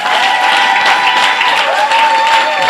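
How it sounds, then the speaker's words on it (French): A church congregation bursts into loud, sustained applause and cheering, a dense close wash of clapping with voices calling out, continuous throughout. "Il peut mériter encore quelques acclamations."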